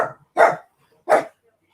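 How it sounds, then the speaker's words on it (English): Dogs bark indoors, two loud separate bursts of barking with a pause between, with faint background noise and no talk over them. "There's the dogs barking."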